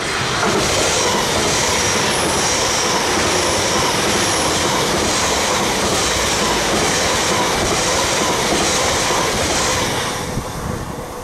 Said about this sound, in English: The train now approaching platform one does not stop